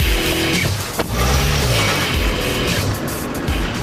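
A Land Rover Freelander 2's engine rumbles and revs as it drives off-road over rough ground, with thumps and creaks, steady and fairly close.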